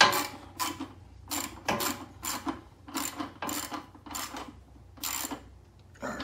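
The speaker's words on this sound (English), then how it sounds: "All we're doing is just putting the bolt back in for the back of the air cleaner." A bolt is turned back into the rear of the air cleaner on a Predator 9000 watt generator, with repeated short rasping bursts of a ratchet or wrench in an even rhythm, close up.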